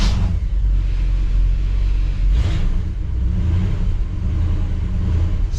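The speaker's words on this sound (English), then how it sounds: "Well, it's going to start without hitting the accelerator." The engine of a 1959 Chevrolet Bel Air running after starting, a steady loud low rumble close by with a brief lift in revs midway, no talk.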